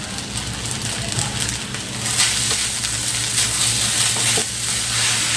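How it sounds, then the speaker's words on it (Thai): Egg is stir-fried with rice and salted fish in a pan over medium heat, a loud, close, continuous sizzle with scraping and tossing of the spatula throughout. "แล้วก็ ผัดไข่เนี่ยครับ ให้เข้าอะไรทั่วเลยนะครับ โดยใช้ไฟปานกลางไปเรื่อยนะครับ"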